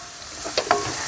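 Drumstick thoran sautéed in a pan with turmeric powder, a close steady sizzle with a couple of quick scraping stirs.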